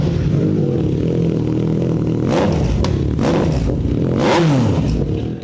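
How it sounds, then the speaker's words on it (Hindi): A three-cylinder superbike engine revs up and down in several loud, close bursts over a steady idle, with some mechanical clatter. "ऐसा 3 सिलेंडर का साउंड आपका"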